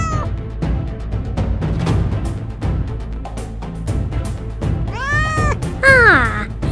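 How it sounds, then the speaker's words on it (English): A cartoon kitten lets out a couple of high, rising and falling meows near the end, clear and close over a busy background of music and effects. "Ah, it's a cute kitten."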